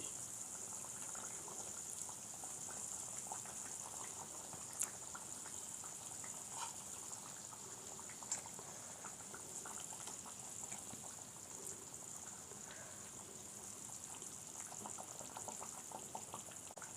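A pot of fish curry (pulusu) with roop chanduva fish simmers and bubbles steadily, a soft continuous gurgling hiss with a few small pops, moderately quiet and alone with no talking.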